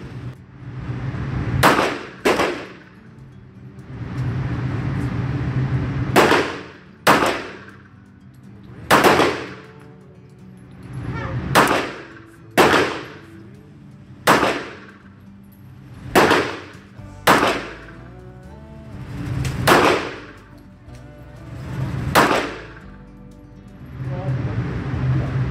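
A Jericho 941 .45 ACP pistol fires steel-case ammunition at a range at 7 yards. About fifteen loud, sharp shots come in uneven pairs and singles across the stretch, each ringing out briefly, with no talking.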